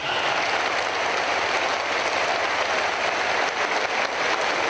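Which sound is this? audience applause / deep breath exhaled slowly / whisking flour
audience applause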